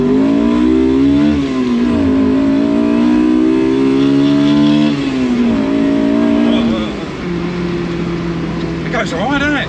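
A Honda S2000-engined Triumph Toledo weighing 850 kg revs up through its gears, the engine note climbing and dropping with each shift, loud and close, with people talking over it.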